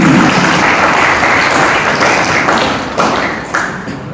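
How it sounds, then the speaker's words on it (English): Audience at a medical college debate competition applauds the student debaters, a dense, loud wash of clapping that holds steady and then gradually thins and fades toward the end. "please give a big round of applause for these people"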